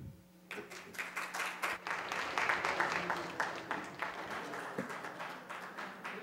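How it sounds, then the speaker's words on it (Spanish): An audience at an optometry forum claps to welcome a speaker to the stage, a moderate crowd of hands building quickly and holding steady, fairly close, with a faint voice briefly underneath. "Recibimos con un cálido aplauso al licenciado Manuel Guevara Estrada"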